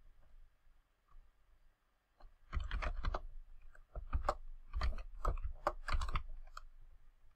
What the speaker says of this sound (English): so I'll start typing